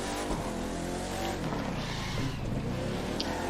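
A car drifting in the video game The Crew 2, with a revving engine and tire noise sustained throughout a short burst, loud and close, no talk.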